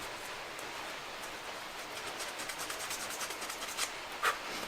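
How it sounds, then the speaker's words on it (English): Folded sandpaper rubbing along the edges of leather rose petals, a steady close-up scratchy rasp with short strokes that grow more pronounced toward the end, heard alone. "Now the next step is to sand the edges of the leather."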